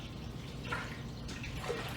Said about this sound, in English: Pour my milk in, pour my milk in, pour my milk in, and done.